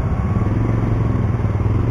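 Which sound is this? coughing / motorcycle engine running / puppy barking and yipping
motorcycle engine running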